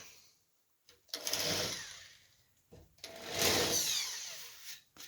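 A drill spins a countersink bit into a pre-drilled hole in two short bursts, each spin-up rising to a steady whir, then winding down, close by with no talk.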